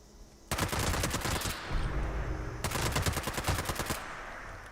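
A Two Shot FFR Handmade rifle in Fallout 76 fires two rapid bursts of dense, loud automatic gunfire, separated by a short pause with lingering echo.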